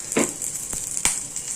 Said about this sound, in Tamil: எண்ணெய் கொஞ்சம் விட்டுக்கலாம். நல்லா கடலைப்பருப்பு கொஞ்சம் லைட்டாக வறுபடணும்.